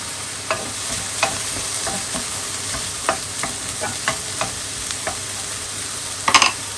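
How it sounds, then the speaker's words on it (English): Onion frying in a pan for pilaf rice, a continuous hiss and sizzle with repeated stirring scrapes and taps at a steady, unhurried rhythm, close up and with no talk. "I'm just going to give it a little bit more fry up."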